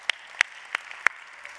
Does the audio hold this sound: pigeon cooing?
no